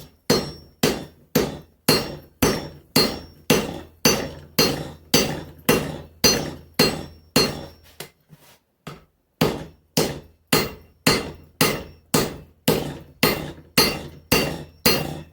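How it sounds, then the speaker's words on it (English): Steady hammer blows on a forge weld during axe forging with liquid borax flux, about two strikes per second, loud and close, with a brief pause near the middle before the rhythmic pounding resumes. "Third heat with forge weld."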